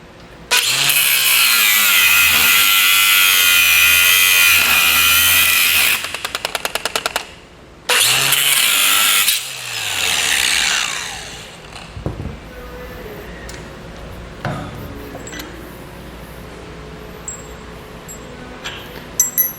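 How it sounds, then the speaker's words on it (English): Cutoff wheel slicing through an old S-hook on a trailer safety chain, a loud continuous high whine for several seconds, a short pause, then another burst that winds down into scattered clinks and handling noises. "We're just gonna use a cutoff wheel here to get this off of here."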